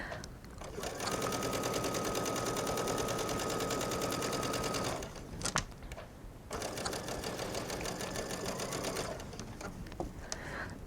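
A sewing machine stitches a tiny rolled hem on silk chiffon in two steady runs of rapid, even whirring, separated by a short pause with a few clicks and handling noises.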